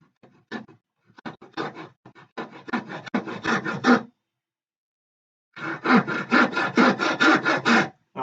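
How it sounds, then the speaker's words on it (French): A hand frame saw cuts through wood in quick, rhythmic back-and-forth strokes, first in a halting run, then a pause, then a steady close burst of rasping strokes. "rien qu'avec le poids de la scie, mon sciage, il va se faire creux naturellement"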